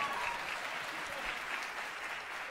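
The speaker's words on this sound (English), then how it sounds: "you can applaud that." Concert audience applauding a big band performance, a steady, even wash of many hands clapping together at moderate volume, continuous throughout with no talk over it.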